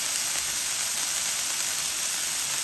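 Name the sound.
burger searing and sizzling on a Blackstone 17 inch griddle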